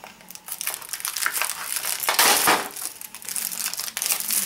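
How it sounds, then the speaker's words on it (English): Shrink wrap crinkling and crackling continuously up close, dense rustly plastic noise swelling louder in the middle, with no talking. "the shrink wrap has a very satisfying sound to it"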